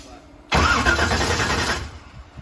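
A supercharged LS-swapped Chevrolet Blazer fires up after a brief quiet start, the engine catching suddenly and settling into a loud, rough, steady idle close by for the rest of the moment.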